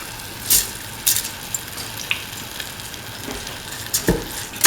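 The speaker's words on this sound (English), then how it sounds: "Now put in the rice which has been washed and soaked." Washed, soaked rice tipped into a hot pan while cooking a spinach, potato and coconut milk rice dish, giving a steady sizzle with a few sharp bursts and scrapes as grains hit the oil, close and without talk.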